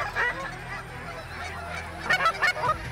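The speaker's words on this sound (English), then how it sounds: "Good bunch of ducks out front." A flock of wild waterfowl flies in during a hunt in Alberta, giving a run of honking calls that starts at a middle distance and then grows louder and more clustered toward the end.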